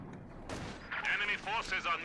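Gunfire in a Company of Heroes 2 battle, a German machine gun firing on Soviet troops: a sharp burst of shots followed by rapid overlapping reports, fairly close and loud, with a commentator talking over it.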